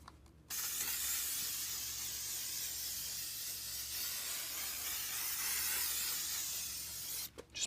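Glue sprays in a long, steady hiss onto a leather leaf fern frond, running for about seven seconds after a short pause. Close and fairly soft, with brief rustles at the start and the end.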